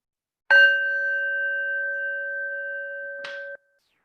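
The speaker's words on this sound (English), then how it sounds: "And to end, I'll ring the bell." A meditation bell is struck once to close a session, ringing out clear and sustained for about three seconds before a second light touch damps it to silence.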